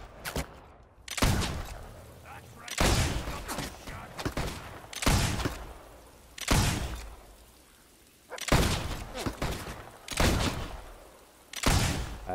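Gunfire in the video game Fable 2, with loud bursts of shots repeating about every one and a half seconds, each a sharp crack with a short rolling tail.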